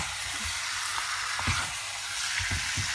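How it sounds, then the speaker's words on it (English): Spinach chicken gravy (palak murg) stirred in an open pan on the stove, a steady close sizzle with a few soft scraping strokes of the spoon through the thick sauce. "And again stirring, and now reduce the flame to medium."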